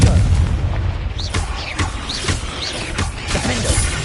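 A fiery Confringo spell fired in a cave in Hogwarts Legacy, heard as a loud, deep booming blast that rolls on with crackling, echoing rumble for several seconds.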